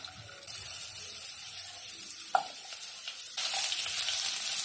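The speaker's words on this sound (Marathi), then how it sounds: "तुपात ना बटाटा छान हे फ्राय करून घ्यायचा" Potato pieces fry in ghee for a veg pulao, giving a steady close sizzle with one sharp clink of a utensil midway, then the frying hiss grows louder and brighter toward the end. No one speaks.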